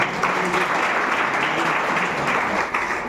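An indoor audience claps together in sustained, dense applause, loud and even throughout with no pauses.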